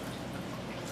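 Syrup poured over a pan of homemade basbousa, a soft steady liquid trickle with faint dripping that lasts about a second and stays quiet.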